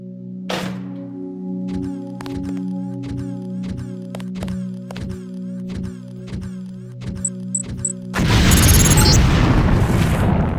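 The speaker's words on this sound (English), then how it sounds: "If you aren't close enough, the LAM will fall to the ground and detonate." A LAM explosive mine detonates in the Deus Ex training level: a sharp, loud blast bursts in near the end and fills the sound, following several seconds of rhythmic, tonal game music.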